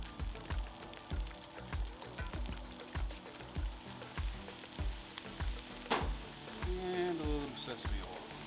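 Pulled pork fried rice sizzling on a 36-inch Blackstone griddle, a steady frying hiss punctuated by regular rhythmic scraping of a spatula, with a voice talking over it.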